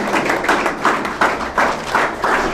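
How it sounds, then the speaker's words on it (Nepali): Applause from a group, beating in a steady rhythm of sharp bursts, close and fairly loud, with no talking over it. "उहाँलाई पनि हामी ताली बजाएर स्वागत गर्नेछौँ"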